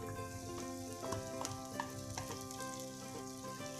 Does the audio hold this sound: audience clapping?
no